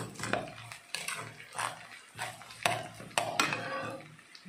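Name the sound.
sautéing a mixture in a pan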